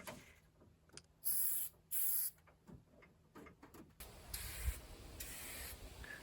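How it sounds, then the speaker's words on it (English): Two short, sharp hisses of an aerosol paint spray can, close by, followed by a steadier, duller spraying hiss amid faint handling noises, painting a truck bed underside. "You apply the paint in a linear way and constant motion using a spray can or a spray gun."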